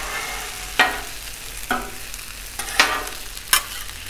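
Broccoli, shrimp and stir-fry vegetables sizzle on a 36-inch Blackstone griddle with a steady frying hiss, broken by four sharp scraping stirs of a spatula spaced about a second apart, close and alone without talk.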